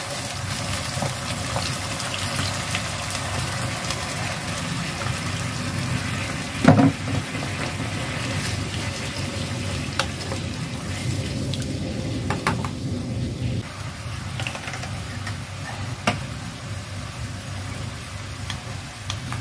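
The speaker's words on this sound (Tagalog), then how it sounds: "pwede na natin ilagay yung sabaw" Pork broth poured into a pot of pork vindaloo flavoured with chilies, garlic and vinegar, giving a steady sizzling, bubbling pour over about twenty seconds with one brief louder splash midway and no talk.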